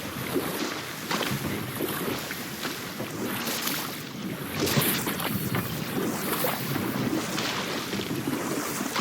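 Steady rushing water of a waterfall in God of War Ragnarok, a broad continuous roar close by with no clear breaks.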